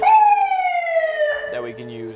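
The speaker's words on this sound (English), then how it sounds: "we have an electronic siren" A fire truck's electronic siren sweeps downward in a loud, close tone, then switches to a different choppy warbling pattern, while someone briefly speaks over the end.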